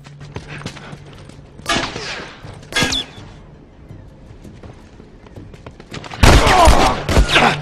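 Enemy gunfire in The Last of Us comes in a few sharp, loud bursts: isolated shots early on, then a heavier volley near the end, with quiet gaps between.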